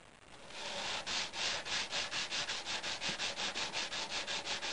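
Metal being filed lengthwise with long, even strokes to clear earlier sanding marks, a steady rhythmic rasping of about four strokes per second, close and fairly loud with no voices.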